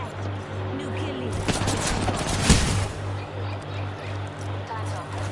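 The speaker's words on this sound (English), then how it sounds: "Listen up, I'm getting shot at." Gunfire in the video game Apex Legends: rapid bursts of shots crackle over a steady pulsing beep, with a sharper impact near the middle, and a player's voice talks over the action.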